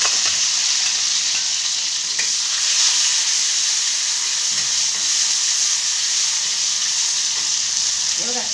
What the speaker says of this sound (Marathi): एवढा छान मस्त असं टमाटरचा असा आवाज यायला पाहिजे